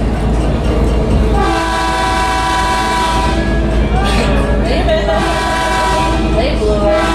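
The horn of the Hoosic Valley scenic train near North Adams, Massachusetts sounds in long, loud sustained blasts over the heavy rumble of the moving train, with people talking faintly.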